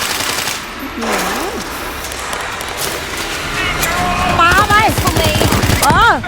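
Bursts of rapid gunfire crackle in the video game World War Z Aftermath over a busy, noisy mix, with voices talking and shouting over the shots toward the end.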